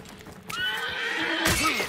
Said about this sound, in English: Horse in front of us.